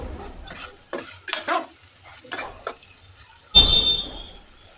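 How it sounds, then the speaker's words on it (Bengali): Chicken curry being stirred as it fries in a pan, with a run of scraping, clattering stirs against a soft sizzle, ending in a louder burst of hissing sizzle. "মাংসটা দেখেন কষানো হয়ে গেছে প্রায়, নেড়ে চেড়ে দেব আমি"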